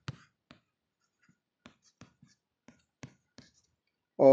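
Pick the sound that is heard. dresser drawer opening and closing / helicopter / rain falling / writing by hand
writing by hand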